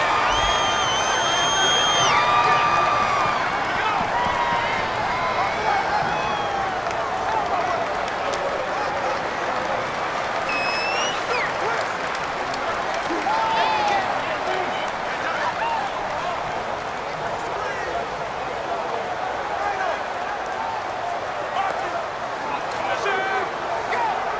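Stadium crowd noise in the Madden NFL 19 video game during an Eagles versus Bengals matchup, a loud steady roar with cheers and whistles running throughout, with a commentator talking over it.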